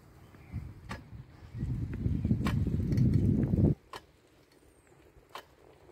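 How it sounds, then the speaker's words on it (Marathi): A bicycle ridden outdoors toward a sunset view makes a low rolling rumble that swells for a few seconds and then stops abruptly, with scattered light clicks and ticks before and after. "मी माझ्या सायकलवर चालवतो आहे."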